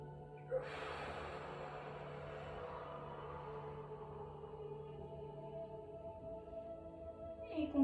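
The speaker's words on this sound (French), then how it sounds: "Inspirez." A person breathes in and out during a stretching exercise; a soft, drawn-out breath rises near the start and fades slowly over several seconds, faint and close, with a quieter breath near the end.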